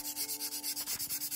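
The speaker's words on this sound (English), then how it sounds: "let's get to sanding. So I'm going to just give it a little scratching here." Stainless steel tumbler being scratched and scuffed with sandpaper, a steady series of rhythmic rubbing strokes about five per second, close and fairly loud, with no talking.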